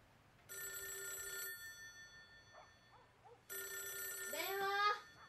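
An old-style telephone bell rings in two long bursts in a quiet room, with a short pause between, and a faint voice in the background during the second burst.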